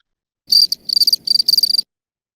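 A cricket-like insect gives rapid bursts of shrill, high chirping in quick pulsed groups, a call directed at a rival, close and alone against silence, lasting about a second and a half.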